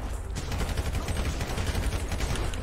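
Rapid sustained gunfire from a GTA shootout, dense overlapping bursts like automatic weapons firing continuously and loudly at close range.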